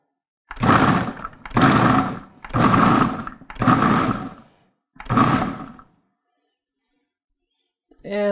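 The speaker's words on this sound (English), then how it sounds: "Next up is the onion. We're going to be using the chopping blade." A Breville food processor chops an onion with its chopping blade in five short, even motor bursts of about a second each. A brief sound follows after a pause.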